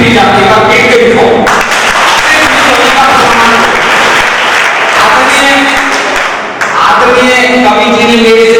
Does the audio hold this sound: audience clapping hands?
yes